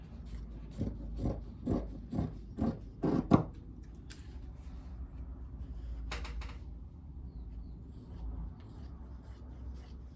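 Scissors snipping through Ankara fabric to cut 1-inch bias trimming strips, a quick run of crisp rhythmic cuts followed by quieter rustling and a few scattered snips, close by with no speech.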